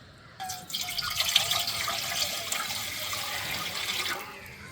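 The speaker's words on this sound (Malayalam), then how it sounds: "അപ്പോൾ ഇനി കുറച്ച് വെള്ളം ഒഴിച്ചു കൊടുക്കാം." Water pours steadily into a pan for cauliflower fry, a close splashing gush lasting a few seconds before tapering off.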